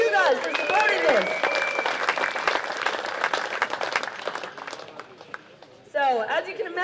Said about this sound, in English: So a big round of applause for you guys for supporting this.